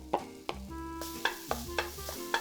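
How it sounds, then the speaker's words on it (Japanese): Microwaved onion and carrot stir-fried in an already-oiled frying pan over medium heat: a steady sizzle with repeated sharp scrapes and clacks of a utensil against the pan, about every half second. "電子レンジで加熱しておいた玉ねぎと人参をフライパンに入れて中火で炒めていきます"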